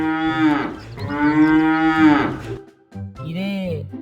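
A cartoon cow gives two long, loud, tonal moos close by, followed by a shorter third low. The setting is a Bangla animated farm story about a simple villager and his cow.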